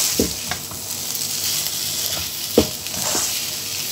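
Chicken hot dog pieces and noodles frying in masala, with a steady sizzle throughout and a few sharp scrapes of a spoon stirring against the pan, no talking.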